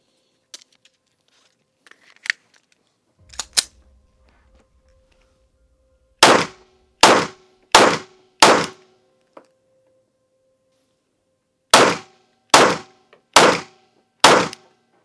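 Handgun shots at a target on a range, two loose single shots followed by two rapid strings of four sharp, loud reports each with short gaps between.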